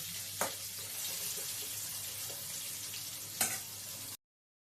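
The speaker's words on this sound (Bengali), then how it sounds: "তাই আলুটাকে ভালো করে আমি ভেজে নেব" Potatoes frying in a pan for a fish curry with ridge gourd, a steady close sizzle with a low hum beneath and two brief sharp clatters of stirring.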